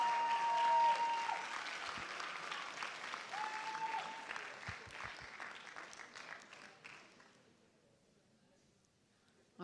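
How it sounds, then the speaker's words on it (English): Warm applause at a Westbury school board meeting honoring Math Mania participants: a dense, steady clatter of many hands that holds for several seconds, then thins and fades to quiet. "Let's give a big hand of applause for all of our Math Mania participants"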